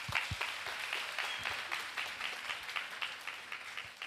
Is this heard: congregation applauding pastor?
yes